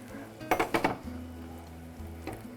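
A spoon stirring fish curry in a cooking pot, a quick run of four clinking, scraping knocks against the metal, then a quieter low simmering hum.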